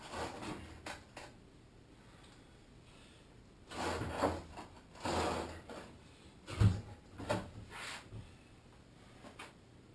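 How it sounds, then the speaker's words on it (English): A homemade wooden work table, built from excess lumber, is dragged across the floor. Several short scraping and knocking bursts rise from a quiet room, with pauses between them. "gotta pull this work table out of here"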